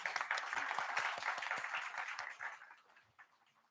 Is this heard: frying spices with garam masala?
no